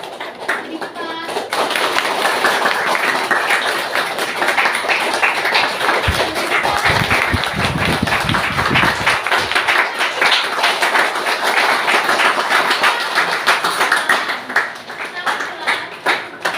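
A group in a classroom claps hands faster, producing a loud, continuous stream of rapid claps that holds steady throughout.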